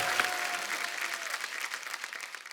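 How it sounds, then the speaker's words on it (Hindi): Studio audience at a comedy show bursts into steady, dense applause that holds at an even level for the whole short stretch, with a crowd murmur mixed in. "इनके लिए जोरदार तालियां हो जाए।"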